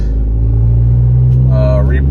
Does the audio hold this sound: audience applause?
no